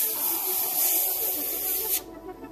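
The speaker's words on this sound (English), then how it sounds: "how to airbrush a quick design at the same time" An airbrush hisses steadily close up while spraying paint onto a hoodie, a continuous airy rush that cuts off abruptly near the end, leaving a faint background.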